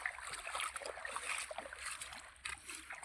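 Water from a motor pump gushes and splashes steadily onto an onion seedbed, a continuous close rushing flow at moderate level with no clear talking.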